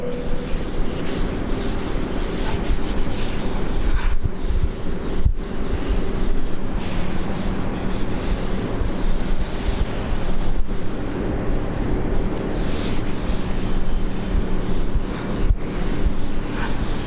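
Chalk is wiped off a classroom blackboard in one long, continuous rubbing and scraping sound, loud and close, with small uneven strokes throughout and no talking.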